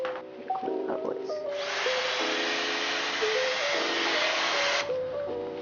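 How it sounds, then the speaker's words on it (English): A Dyson Airwrap blows steadily while hair is combed upward, a smooth airy whir that rises, holds for several seconds and then cuts out, with background sounds and faint talk around it. "use the Dyson Airwrap and just comb it like this"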